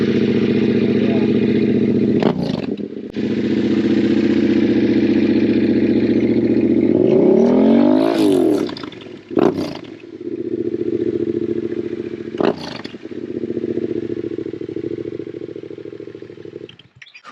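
Yamaha T7 motorcycle running a Back Widow exhaust with the dB killer removed, a loud, deep, throaty idle held steady throughout, broken by a few sharp blips and revs, with faint voices underneath.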